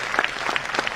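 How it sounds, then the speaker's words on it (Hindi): Audience clapping enthusiastically at a Modicare business event, a dense, close burst of many hands applauding steadily. "तो एक बार जोरदार ताली इस इवेंट के लिए आपके लिए।"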